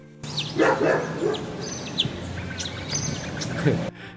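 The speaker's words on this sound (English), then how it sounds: "aren't those bird noises really nice?" Bright bird chirps and tweets scattered over a dense background, with a dog-like bark or two mixed in, fairly close and lively.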